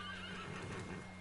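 A horse in a PS4 video game neighs, a faint, short whinny over low background game sound with soft hoof clops.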